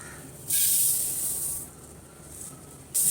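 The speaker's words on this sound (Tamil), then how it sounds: "வடச்சட்டி ஹீட் ஆகிடுச்சுங்க இப்போ நம்ம எள்ளு போட்டு வறுத்துக்கலாம்" Sesame seeds roasting in a hot kadai give a loud bright sizzling hiss that bursts in, fades to a softer crackle, then surges again at the end, close and without talk.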